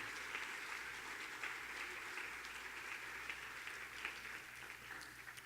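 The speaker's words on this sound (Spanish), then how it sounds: "Alguien debe aplaudir a Jesús." A church congregation claps together in steady, sustained applause, a moderately distant wash of many hands with faint voices mixed in.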